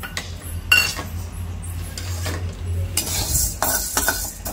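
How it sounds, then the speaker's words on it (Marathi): A spoon stirs and scrapes chana dal (split chickpeas) as it roasts dry in a pan, with repeated metallic clinks and scraping strokes over a faint sizzle, fairly close and loud, with no voices. "आणि न करपवता डाळ सुद्धा आपल्याला भाजून घ्यायची आहे"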